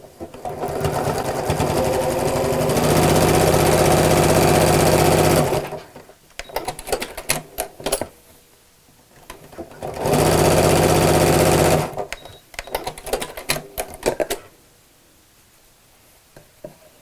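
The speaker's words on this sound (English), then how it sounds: "I'm going to sew down both sides and a little bit across the bottom as well" A sewing machine runs in two long steady bursts while stitching down both sides and across the bottom of a fabric travel jewellery case, with stop-start clatter and handling noise between the runs.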